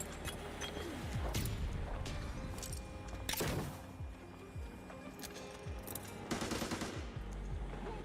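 A grenade fight in the shooter game Arena Breakout: dense, continuous bursts of gunfire with heavy booms and thumps, several loud blasts standing out, while a voice talks faintly underneath.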